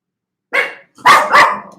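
A dog barks three times nearby, one bark followed by a short pause and then two quick barks, with no other sound around it.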